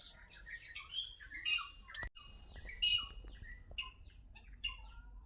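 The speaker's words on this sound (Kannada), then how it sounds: "ಹಕ್ಕಿಗಳ ಕಲರವ ಕೇಳಿ ಅಶು" Several small birds chirp and tweet in a morning garden, bright repeated calls at moderate distance over a soft background hum, with no talking.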